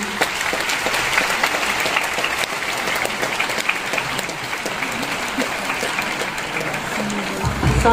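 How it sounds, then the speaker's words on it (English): Sustained audience applause for a guest speaker at a formal introduction ceremony, a steady dense wash of many hands clapping for the whole stretch without pause. "a round of applause to Dr. Leonida B."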